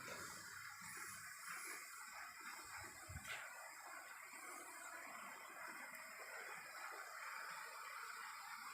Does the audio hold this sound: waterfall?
yes